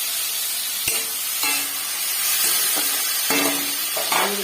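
Vegetables with tomato and green chilli fry in a pan for semolina upma, giving a steady hiss and sizzle with occasional stirring scrapes and clanks.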